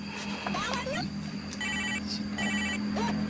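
A telephone rings in two short electronic bursts over a steady background hum while people talk over it.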